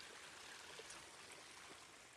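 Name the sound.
small waterfall flowing by a lakeside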